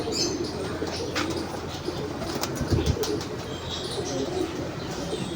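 Birds inside a bird house coo and rustle close by, with a few wing flaps and a sharp thump near the middle, steady low background.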